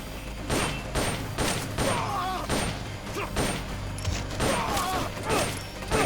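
Gunfire in the Metal Gear Solid: Peace Walker video game, a dense run of game shots and thuds with mechanical clatter, continuous and loud throughout, with a voice heard faintly in places.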